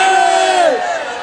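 A crowd at an Islamic religious gathering shouts the takbir together in one loud, sustained collective cry that tails off after about a second.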